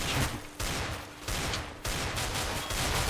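Gunfire rattles in the multiplayer shooter game Counter-Strike: Global Offensive, with several dense bursts of shots in quick succession. It is loud and continuous, with brief gaps between volleys and no talking over it.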